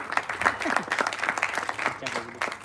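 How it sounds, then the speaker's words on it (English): Applause from the audience at a trailer launch event for the film Jersey, a busy patter of clapping mixed with cheers and whoops, with crowd voices and a host's speech running through it. "Ladies and gentlemen, big round of applause for Mrunal and Shahid Kapoor."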